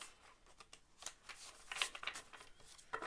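A tarot card deck given a messy shuffle, producing soft, quiet scattered rustles and light slaps of cards sliding against each other, close and faint with no talking.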